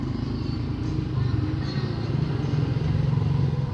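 Yamaha Sniper 155 motorcycle engine running while being ridden, a steady low rumbling drone with road and wind noise throughout, continuous and fairly loud.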